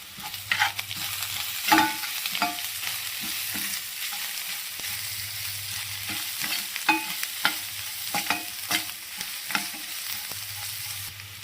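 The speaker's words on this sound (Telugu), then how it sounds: "ఇలా పచ్చివాసన దగ్గర కొద్దిసేపు ఇలా వేయించుకొని" Spices sizzle and fry for a carrot curry while a spoon stirs them in intermittent scraping strokes against the pan, steady close-up sizzling underneath with a low hum in places.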